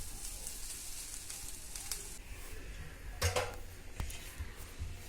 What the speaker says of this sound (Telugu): వీటన్నింటినీ బాగా మిక్స్ చేసుకోవాలి.